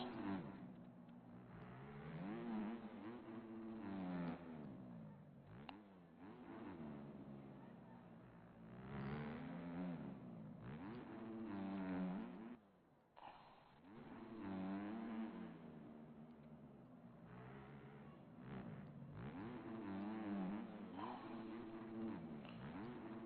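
A motocross bike engine in the MX Bikes racing game revs hard around a lap, its pitch sweeping up and down through repeated throttle bursts and shifts. Loud and close, with one brief drop mid-lap.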